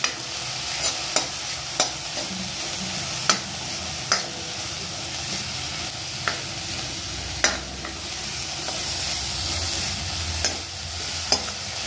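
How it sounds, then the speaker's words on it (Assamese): Vegetables for a momo filling fry in oil in a kadai, with a continuous sizzle broken by regular sharp scrapes and clacks of a spatula stirring against the metal, close up and with no one talking. "বহাই দিলোঁ কেৰাহী আৰু এতিয়া ইয়াত দিম তেল, তাৰপিছত দিম ভেজিটেবলখিনি।"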